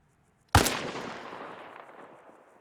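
A single rifle shot in Arma Reforger: one sharp, loud crack followed by a long rolling echo that fades slowly over two seconds, with no talk.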